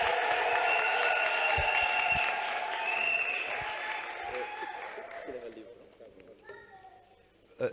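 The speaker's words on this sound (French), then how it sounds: "Est-ce qu'on peut acclamer les chefs de district?" An audience applauds district chiefs at the installation of a church district office in Ngaliema, a dense, loud wash of clapping that fades over several seconds, with voices and cheers mixed in and a speaker's voice near the end.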